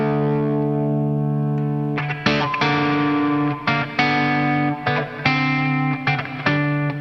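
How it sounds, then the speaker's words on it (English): Electric guitar played through amp-block distortion, starting with a long sustained chord, then choppy rhythmic stabs with brief gaps between them, close and alone with no talking. "I'm kind of focused on the amp block distortion in there."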